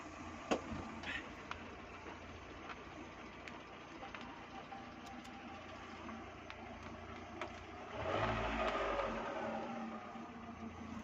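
A Fiat Stilo is driven on a brake test: a faint, low engine and road rumble with scattered clicks, swelling into a louder surge near the end.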